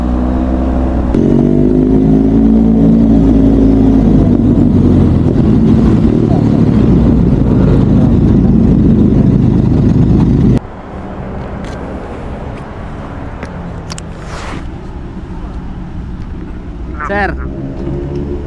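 A motorcycle engine runs loud and close at a big-bike meetup, a steady heavy rumble that drops sharply partway through to a quieter idle, with people talking over it.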